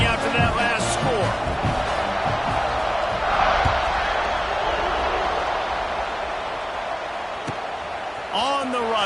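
A large stadium crowd at a Miami vs Georgia football game keeps up a loud, continuous buzz after a score, and a commentator talks over the roar.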